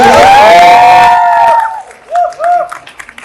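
Studio audience on a reality show set cheers and applauds a couple on stage, a loud burst of crowd noise that fades after about a second and a half, followed by brief fragments of voices.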